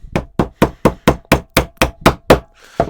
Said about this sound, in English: I'm just going to work and chisel that off.